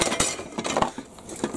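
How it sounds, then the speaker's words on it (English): Metal objects clatter and clank in a cluttered home workshop beside a Boxford lathe, a quick jumble of rattling, clinking hits and a few sharper knocks, close and fairly loud with no voice. "Whatever I touch, 600 other things fall about the place."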